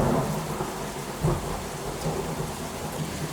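Loud, continuous heavy rain pours during a derecho storm, with a deep thunder rumble swelling near the middle and lingering under the steady downpour; no one speaks.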